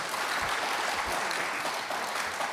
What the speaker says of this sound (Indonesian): tepuk tanganlah Bapak dan Ibu dulu.